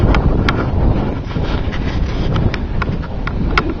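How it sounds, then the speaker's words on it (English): Wind gusts across an outdoor waterside spot and roars steadily into the microphone, with a few faint taps and knocks scattered through it and no talking. "It's a little windy, but not bad."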